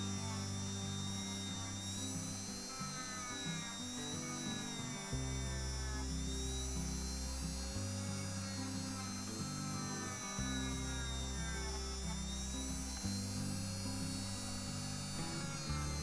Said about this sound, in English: we'll just go around with the little polishing mop just to clean up the wheels a little bit